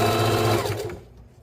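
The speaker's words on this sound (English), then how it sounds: "Now we're putting the foot down, and we're going to sew a little bit more till we reach pin." Sewing machine stitching a pillow, a steady close mechanical whir with rapid needle rhythm that runs for most of a second before slowing and stopping.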